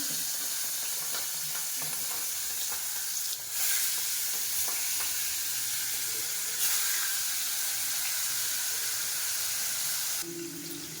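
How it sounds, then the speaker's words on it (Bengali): Fish sizzles steadily as it fries in a pan of oil, a continuous close crackle with a few brief louder bursts and no voices. "মাছ ভাজা বসিয়ে দিচ্ছি।"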